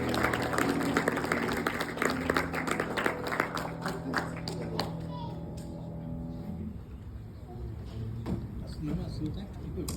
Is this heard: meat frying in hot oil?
no